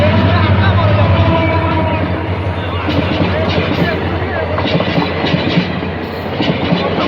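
A train rumbles past with rhythmic clacking of wheels on the rails, loud and steady, with a murmur of voices in the background.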